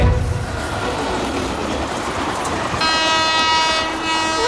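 A train runs steadily past with continuous rumbling and rattling wagons, then a long sustained horn blast sounds clearly over the clatter for the final seconds, with no talking.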